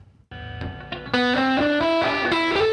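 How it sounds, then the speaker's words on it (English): Guitar played through an air reverb patch on a HeadRush effects unit, sustained distorted chords and single notes ringing out with a wide, lingering wash and layered shimmer, loud and alone with no voices. "So there's an air reverb."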